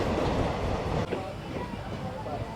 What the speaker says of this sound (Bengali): একটা ট্রেন কিন্তু অলরেডি এই নসিপুর ব্রিজের উপর দিয়ে চলে এসছে